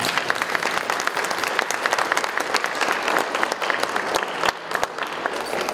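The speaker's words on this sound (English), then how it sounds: "Let's have a big round of applause for this wonderful audience" Audience at a red carpet premiere event applauds steadily and loudly throughout, a dense wash of clapping from a large crowd with no break.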